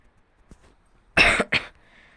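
A person coughs twice in quick succession, loud and close, after a few faint breaths and small noises, with no talking.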